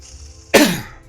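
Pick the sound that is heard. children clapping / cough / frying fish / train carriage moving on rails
cough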